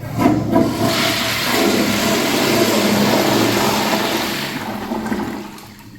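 A Crane Sanuro pedestal urinal runs its bowl rinse flush, a loud rushing wash of water that starts at once, pours steadily for several seconds and then fades away.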